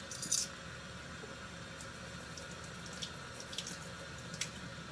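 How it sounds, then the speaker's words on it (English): Hot water running from a kitchen tap while mixing chalk paint with plaster of Paris, a quiet steady stream hissing and splashing into a sink, with faint drips and clinks near the start. "We're going to turn on the hot water."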